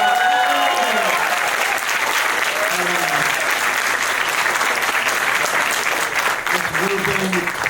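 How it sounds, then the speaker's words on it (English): An audience at a movie premiere Q&A in New York or Los Angeles applauds steadily and loudly, with whoops and voices mixed into the clapping. "we're doing another applause"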